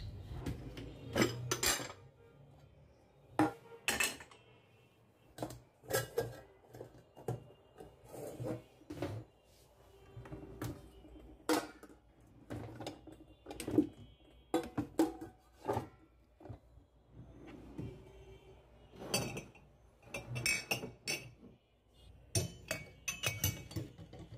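Kitchen utensils, dishes and cutlery being put back in place after a winter kitchen cleaning, with repeated close clinks and clatters of metal and glass, a drawer or cupboard opening and closing, and steady irregular handling throughout.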